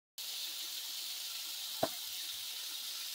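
Soft steady sizzle of pork stir fry with hoisin and sweet chili sauce frying in a pan, a faint even hiss with one brief knock partway through.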